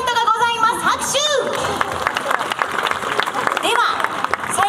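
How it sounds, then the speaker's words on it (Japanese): Studio audience clapping and cheering at a Japanese variety game show, a burst of applause mixed with lively crowd noise and sweeping electronic sound effects. "拍手。"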